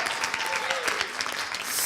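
Steady round of applause from an audience at an event, dense and sustained clapping at full volume for the whole stretch, with a voice briefly audible over it.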